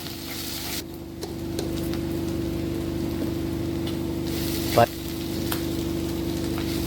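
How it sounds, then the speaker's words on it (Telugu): Ginger-garlic paste fries with onions and chillies in hot oil for chicken curry, a steady close sizzle with a low hum beneath and occasional clinks and scrapes. "చెంచడు అల్లం వెల్లిపాయ వేసినాం"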